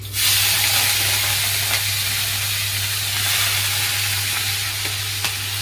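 Shrimp sizzle in hot oil in a wok, a loud, steady frying hiss with faint stirring scrapes and a constant low hum underneath.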